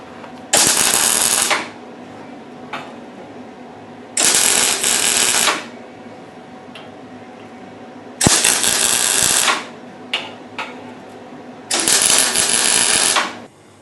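Tack welds join sheet-metal sections on a T37 restoration, heard as four loud, harsh crackling bursts of about a second each, separated by pauses and a few brief sputters.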